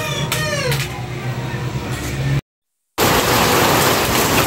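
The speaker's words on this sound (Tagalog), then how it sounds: "umuulan na. Lakas na naman ang ulan." Heavy rain pours down as a dense, loud hiss in the rural Philippines, with some background sounds before a brief gap of silence, then a steady downpour.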